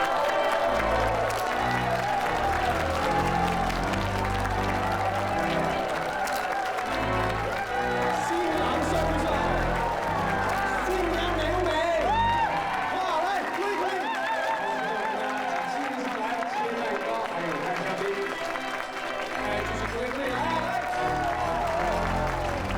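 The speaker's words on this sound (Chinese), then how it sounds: "让我们现在全部站起来，以掌声欢迎我们的新人" Wedding reception guests applauding the newlyweds on their entrance during an evening celebration, sustained crowd clapping and cheering mixed with chatter and music, filling the room at a fairly even level.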